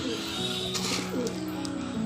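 Soft pigeon cooing with low, rolling tones over steady background noise, a few faint higher chirps breaking through.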